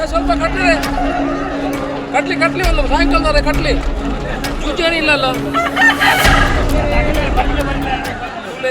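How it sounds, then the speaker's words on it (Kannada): Roosters crow repeatedly at a cockfight in Kepu amid a dense crowd of chattering voices, with a loud surge of noise from the gathered people partway through. "ಸ್ಥಳಕ್ಕೆ ಭೇಟಿ ನೀಡಿದ್ದ ಶಾಸಕ ಅಶೋಕ್ ರೈ ಅವರು ಸ್ಥಳದಲ್ಲಿ ನಿಂತು ಕೋಳಿ ಅಂಕವನ್ನ ಮಾಡಿಸಿದ್ರು."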